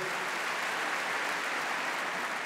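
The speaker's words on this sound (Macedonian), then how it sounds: "Еден аплауз за Ранка," Sustained applause from a live audience at the Zlatna Bubamara 2024 awards show, a dense, even wash of clapping that stays steady throughout with no voices on top.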